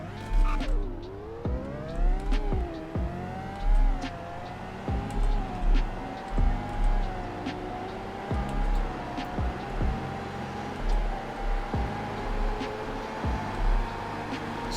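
Car engine in the Roblox game Greenville revving hard through repeated upshifts of a seven-speed gearbox during a top-speed run, pitch climbing then dropping at each shift, loud and steady with no talk.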